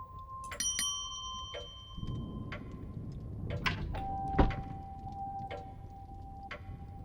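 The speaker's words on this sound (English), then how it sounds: "let's just ring the bell" A doorbell rung at the manor door in the video game The Séance of Blake Manor gives several bright metallic rings with sustained tones, followed by a few knock-like thuds, fairly close and alone without talk.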